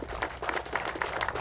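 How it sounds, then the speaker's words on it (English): An audience at a memorial event applauds, giving a brief, fairly faint, even patter of many hands clapping with no break. "So you can give yourselves a round of applause because you're all helping out."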